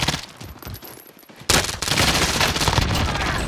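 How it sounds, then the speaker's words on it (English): Automatic gunfire in the Call of Duty: Modern Warfare video game, a loud sustained burst that erupts after a quieter stretch of scattered shots and continues densely to the end, with no talking. "I shot him up, Pete."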